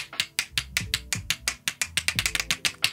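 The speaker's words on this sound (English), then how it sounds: "not before cracking your old man back" A rapid series of sharp clicks and cracks, played as a back-cracking effect, comes close and loud in uneven bursts with no talk.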